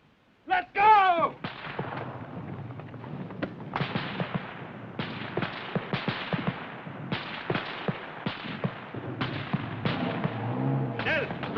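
Battlefield gunfire and artillery in a 1951 World War II film, a sharp opening blast followed by repeated close shots and booms of varying loudness, with shouted voices near the end.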